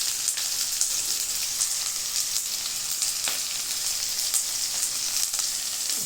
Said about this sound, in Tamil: சீரகத்தை போட்டது, வெங்காயத்தை போட்டேன்.